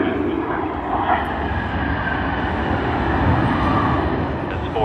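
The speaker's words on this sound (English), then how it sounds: "we have Air India Delhi to Sydney service on the Boeing 787-8 Dreamliner" An Air India Boeing 787-8 Dreamliner taxis at Sydney Airport, its engines giving a steady, moderately loud roar and whine from a distance, with a voice talking over it.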